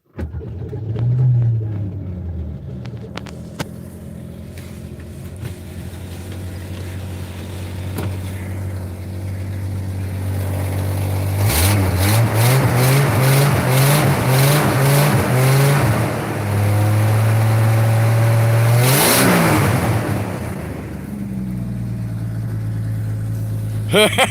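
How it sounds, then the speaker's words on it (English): A 45-year-old hot rod engine cranks, catches and runs loudly up close, revving up and down in several rising and falling sweeps before settling into a rough idle, with brief talk near the start. "You guys just heard a 45-year-old engine still running"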